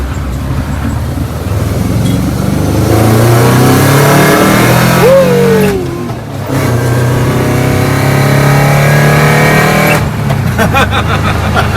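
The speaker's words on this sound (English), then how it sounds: "we'll do another second gear pull" A VW Bus fitted with a converted Subaru engine and custom exhaust pulls hard in second gear, its loud, rising engine note heard up close, with a brief dip around a shift before the revving resumes.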